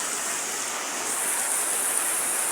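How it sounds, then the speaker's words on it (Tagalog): Steady, heavy broadband rush of a thunderstorm downpour and flowing water, loud and unbroken throughout with no voices. "ang lakas ng ulan. Tingnan mo nga ang agos ng tubig."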